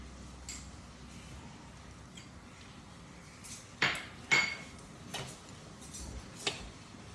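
A spoon knocks and clinks against a pan in a few sharp, scattered taps while stirring, close but quiet over a low hush.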